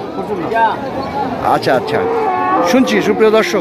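Cattle moo loudly and repeatedly at a crowded livestock market, with deep drawn-out calls rising over constant chatter and someone speaking close by.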